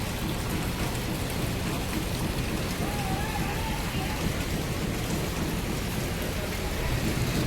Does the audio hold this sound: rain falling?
yes